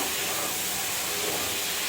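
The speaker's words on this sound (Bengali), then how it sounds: "দেখুন কি সুন্দর ফুটছে।" Mushrooms cook in a pan with a dense, steady hiss of bubbling and sizzling, close and unbroken throughout.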